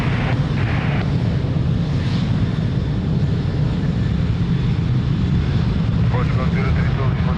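An airliner takes off from runway 02 at Lisbon Airport, a loud, sustained, broad engine roar that holds steady throughout, with faint radio voices briefly audible beneath it.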